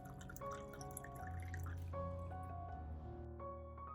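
Vinegar, about 200 milliliters, pours into a container with a steady liquid stream and dripping that shifts in pitch as it fills, quiet and close.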